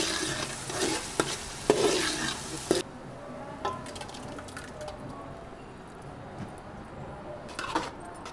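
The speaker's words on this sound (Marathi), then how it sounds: "तर आता पावभाजी फोडणीला देत आहे." Pav bhaji tempering in a pan gives a bright sizzle with scraping stirs for the first few seconds, then fades to quieter background sounds at a house during the Ganesh festival, with a few more clinks near the end.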